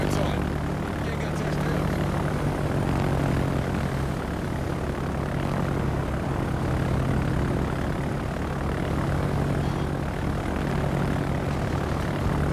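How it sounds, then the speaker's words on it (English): Carrier aircraft from a German tier 6 carrier, the E. Loewenhardt, return in World of Warships with a steady, loud propeller-engine drone that holds evenly throughout. "Get those planes back to the carrier so that they're ready to go for the next one."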